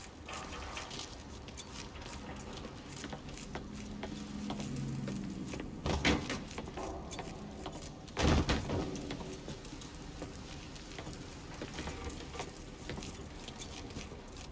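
Keys jangle and clink in scattered, brief bursts as they are picked up in the Mafia 3 video game, heard fairly close over a low background rumble with no talking.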